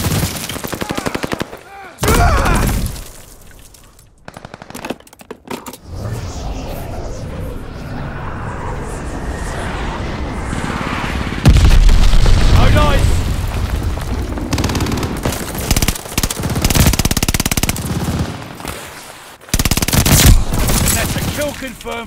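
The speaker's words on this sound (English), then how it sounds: "Glide bomb set to drop!" Gunfire and explosions in the video game Call of Duty: Vanguard, with bursts of automatic fire and heavy booms from a glide bomb strike, separated by quieter gaps, and a player talking in between.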